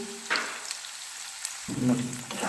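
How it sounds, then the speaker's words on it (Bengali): Two medium onions, finely sliced, fry in a pan for a lotte fish curry with dry mustard sauce, giving a steady close sizzle. Soft scraping from stirring comes and goes, with a low hum running underneath. "এই দেখো, ফাইনলি স্লাইস পেঁয়াজ দিয়ে দিয়েছি, দিয়ে এবার এটাকে আমি নাড়ছি"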